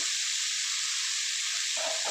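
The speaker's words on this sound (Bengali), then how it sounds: "বরবটিগুলো একটু ভাজা হোক" Constant bright frying hiss of green beans in a pan, even and close, with a slight shift near the end as if the food is stirred.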